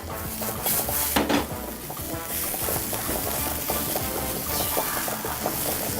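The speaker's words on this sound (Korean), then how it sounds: "바로 팬에 볶으면서 소금 간을 살짝 해주도록 하겠습니다" Cucumber stir-fried in a hot pan, a steady close sizzle with repeated scraping and clinks of a utensil against the pan as it is tossed, no talk.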